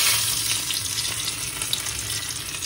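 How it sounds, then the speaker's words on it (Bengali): Crushed garlic dropped into hot oil in a wok, giving a steady bright sizzle and crackle that continues evenly with no talking. "তেল গরম হয়ে গেছে, আর রসুনগুলো থেতো করে নিয়েছি, সেই রসুনগুলো এবার দিয়ে দিচ্ছি"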